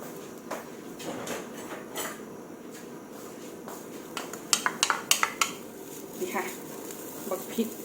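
Chili paste stir-roasted in a pan, with clinking spatula-on-pan scrapes and taps over a low sizzle, faint and busy, with brief bursts of metallic clatter.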